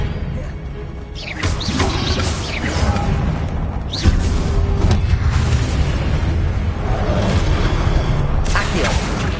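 Spell blasts from Hogwarts Legacy, such as Confringo, with booming, crashing impacts and whooshes over a continuous roar of game effects, including sharp bursts near 1, 4 and 9 seconds.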